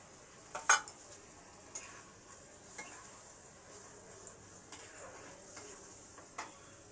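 Mustard paste with salt and ground green chilli being fried and stirred in a pan for a coconut rohu fish curry, giving a soft steady sizzle with scattered light scrapes and clinks of a spoon against the pan.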